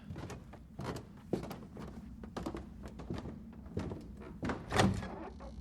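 Knocking on a door, a series of muffled thuds in uneven clusters with a louder blow near the end, heard fairly close within a quiet room and not under any talk.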